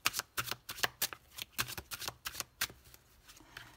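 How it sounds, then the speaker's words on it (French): Tarot cards are shuffled close up in a string of quick, crisp riffling bursts and slaps that come in an irregular rhythm and fade toward the end. "Allez, on va voir les 6 cartes du tarot."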